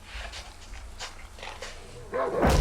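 A dog barks and yips in the survival horror video game Darkwood, several short barks over a dark, noisy game ambience, rising louder near the end.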